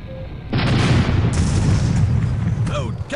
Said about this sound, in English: Fire! Load cannonballs! Fire!